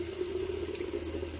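Tap water runs steadily into a bathroom sink, a constant close, fairly quiet stream with no break and no voices.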